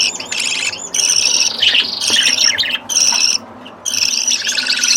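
Budgerigar chicks chirp in rapid, high, overlapping bursts, close and fairly loud, in several clusters with short gaps between them, no speech.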